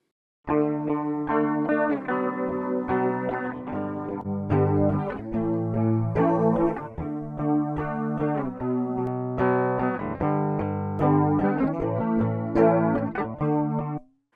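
An electric guitar plays a sequence of chords and notes through a lush, shimmering vintage ensemble chorus effect with slight distortion, continuous for over ten seconds with no talking.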